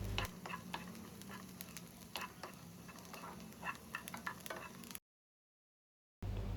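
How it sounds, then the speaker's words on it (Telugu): Onions fry in a kadai until light brown, giving a quiet, steady sizzle with scattered clicks of stirring, heard close up, then a short silence before the frying noise returns. "సాఫ్ట్గా లైట్ బ్రౌన్ అయ్యేంత వరకు మనము ఫ్రై చేసుకోవాలి."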